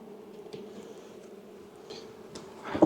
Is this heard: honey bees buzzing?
yes